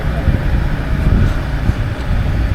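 Wind roaring and an engine rumbling steadily while riding in the open back of a tempo truck on a road in Konkan, with loud continuous low-end buffeting throughout.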